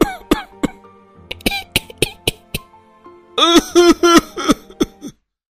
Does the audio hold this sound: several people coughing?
yes